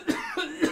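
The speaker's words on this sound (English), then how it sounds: "Trying to get these sneeze and coughs out." A person coughs sharply three times in quick succession, close and clear, with brief pauses between each.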